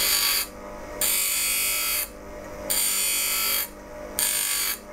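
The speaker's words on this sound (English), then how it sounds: "what I need to do is now take away this metal around here and sharpen it all the way along here." Metal is ground off a skew chisel in three long, loud bursts of harsh, hissing abrasion, each separated by a brief lull, close up with no voices.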